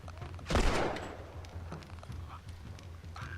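Gunfire in the video game The Last of Us Part II: one sharp, loud shot burst, followed by quieter scattered clicks and faint game ambience.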